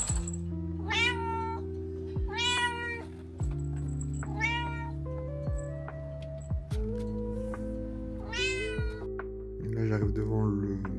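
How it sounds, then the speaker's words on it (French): A cat meows repeatedly in several distinct, fairly close cries spaced a couple of seconds apart, heard over a steady low background hum. "j'ai entendu un petit minou miauler."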